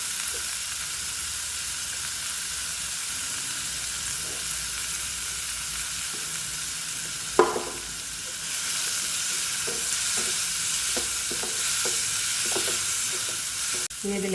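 Ginger garlic paste fries with green chili and curry leaves for an egg curry, a continuous loud sizzle broken by a few scraping stirs of the pan.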